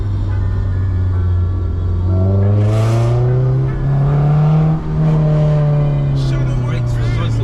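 A Honda S2000 sports car engine drones loudly and steadily from inside the cabin, its pitch rising and falling as the revs change.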